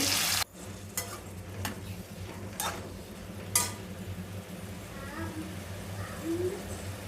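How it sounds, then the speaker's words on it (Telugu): Brinjal pieces frying in hot oil in a pan, with a sharp burst as they go in, then a low steady sizzle broken by several spaced scrapes and clinks of a spatula, close up, with no talk. "ఆయిల్ హీట్ అయిన తర్వాత కట్ చేసుకున్న బ్రింజాల్ పీసెస్ అన్నీ వేసుకోవాలి."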